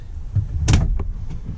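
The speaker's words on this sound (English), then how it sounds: "shut the door, see if it actually closes. Give it a good shut" The rear door of a first-generation Toyota Sequoia swings shut with one solid thud and latch clunk, close and fairly loud, followed by a couple of faint softer knocks.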